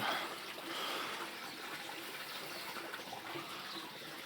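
Water gushes fast and steady into a tank that is overflowing, a broad continuous rushing and splashing, fairly close and unbroken throughout.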